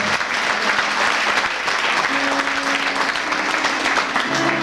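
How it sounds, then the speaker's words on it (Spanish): Congregation applauding at an evangelical mission service among Roma, a loud continuous burst of many hands clapping, with a faint sustained tone entering partway through. "Un aplauso para el Señor. Un applaudissement pour le Seigneur."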